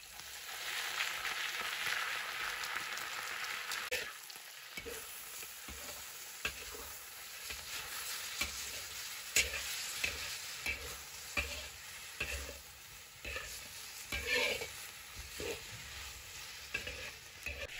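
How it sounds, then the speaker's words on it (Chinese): Shredded cabbage stir-fried in a hot wok, a steady bright sizzle with repeated scraping and tossing strokes of the spatula, close and fairly loud throughout with no talking. "炒香后就可以下入包菜了"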